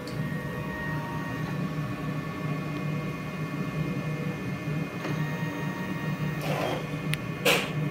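A DTF printer runs its head clean cycle with a steady mechanical hum and whir up close, then a few brief clicks and a short sharp burst of motor or pump noise toward the end.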